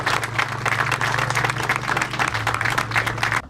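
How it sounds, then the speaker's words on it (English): A crowd at an outdoor memorial car show claps in a dense, even burst of applause lasting a few seconds before stopping sharply. "So just a round of applause for them."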